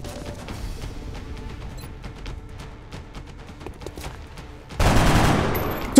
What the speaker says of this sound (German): aber der wird auf jeden Fall auf mich schießen